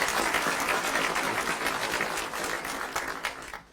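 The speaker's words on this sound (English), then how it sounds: "Can we have a round of applause," Audience at an ethical investment awards panel gives a short round of applause, dense, moderately loud clapping that thins out toward the end.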